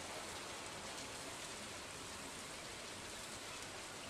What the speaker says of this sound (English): You know, it's raining.